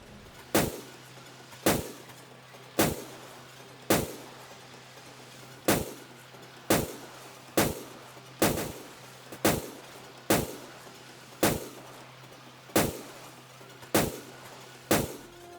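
Submarine deck gun in the video game UBOAT fires a steady series of about fourteen loud, sharp booms spaced roughly a second apart, each with a short decaying tail over a low constant hum.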